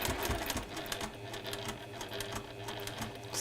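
A sewing machine stitches fabric pieces onto a background fabric with a fast, steady mechanical chatter of needle strokes, close and fairly quiet, running without pause and without talk.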